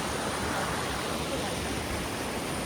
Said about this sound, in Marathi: वॉटरफॉल बघा पाण्यातून जातो आणि सगळ्यात बिगेस्ट वॉटरफॉल प्रेशर पण पाण्याचं प्रेशर पण खूप आहे